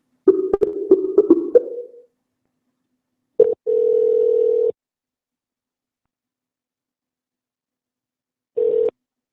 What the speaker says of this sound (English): Let's call him up.